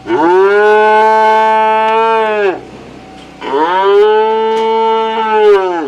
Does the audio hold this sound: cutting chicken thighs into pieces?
no